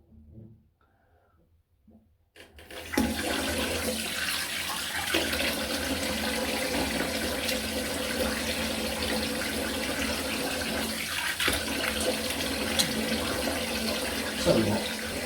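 Water runs into a slow-draining bathroom sink after a brief quiet start, then pours and gurgles steadily and loudly up close for the rest of the stretch.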